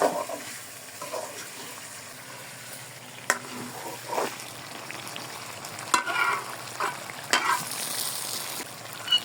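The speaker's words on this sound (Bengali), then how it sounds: "আমার যেহেতু কড়াইতে রান্না করতেছি, নিচে লেগে যাচ্ছে, ঘন ঘন নাড়াতে হচ্ছে" Chicken korma frying in a kadai is stirred often to keep it from sticking, giving a steady low sizzle with scraping spoon strokes at intervals, close by and fairly quiet, with no talk.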